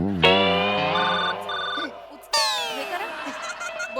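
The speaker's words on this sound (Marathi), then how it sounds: "बाबा फोन लावा माझा" A telephone rings in two bursts of a bright electronic ringtone after a call is placed, the second burst sharper, and it sounds over a lively comedy stage scene.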